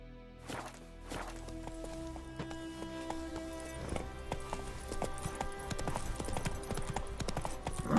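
A horse's hooves clip-clop at a steady walking rhythm in the video game The Witcher 3, alongside game music.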